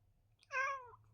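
On a farm, a cat gives a single clear meow, moderately close and fairly soft, rising then trailing off over a faint low hum with no talking.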